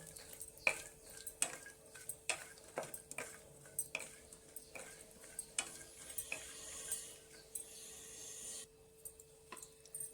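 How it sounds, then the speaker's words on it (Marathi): A spatula scrapes and clinks against a kadhai in irregular strokes, with soft sizzling underneath as cashews are roasted in the heat. "काजू घालून घेते हे चांगले परतलून घेऊ आपण"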